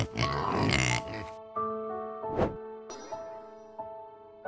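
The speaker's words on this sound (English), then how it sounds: "Pig." A pig grunts and oinks in a short rough burst at the start, followed by steady tonal background music with soft knocks.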